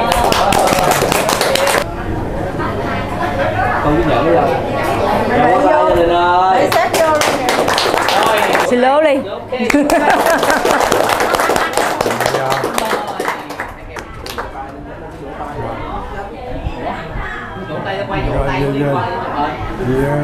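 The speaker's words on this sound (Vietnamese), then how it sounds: "Vỗ tay" Guests clapping at a Vietnamese wedding: bursts of hand clapping mixed with loud chatter and talking voices throughout, the applause dense at the start and fading into crowd talk.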